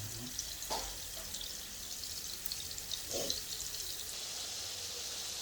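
Hamburger patties frying in a little oil in a pan, a soft continuous sizzle with faint crackles and a couple of brief louder spatters, fairly quiet overall.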